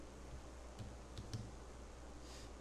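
Faint keystrokes on a computer keyboard tap out a few scattered clicks over a low room hiss, quiet and close.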